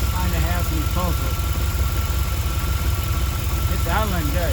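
A throttle body injection engine idles steadily nearby with an even low rumble, and a voice briefly cuts in over it now and then.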